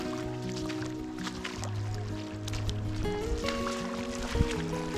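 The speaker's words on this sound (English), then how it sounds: "So here comes some more water flowing down." A shallow meltwater stream surging in small waves over sand at Great Sand Dunes National Park, a close, continuous trickling and gurgling with brief splashy bursts.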